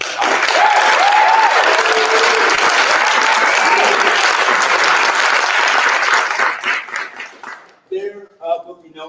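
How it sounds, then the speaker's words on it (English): A theater audience applauding before a conservatory drama performance, a full, sustained roar of clapping with some cheering that fades out, after which a voice speaks. "Let's clap."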